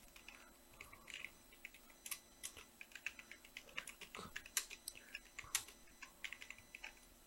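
Rapid clicking of computer keys as text is typed, an irregular patter of close, light keystrokes with short bursts and pauses, quiet and alone with faint background hum.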